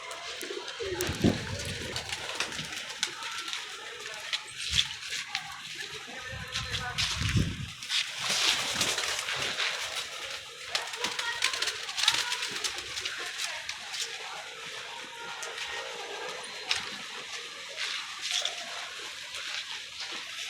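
Pigeons kept on a rooftop coo softly and repeatedly, their low burbling calls recurring near and far, mixed with some splashing and handling noises.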